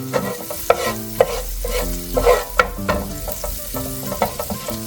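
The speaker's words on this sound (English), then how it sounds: "Saute the ginger and garlic in there for a bit." Garlic and ginger sauté in melted butter in a pan, a steady close sizzle broken by repeated scraping stirs, with no talking.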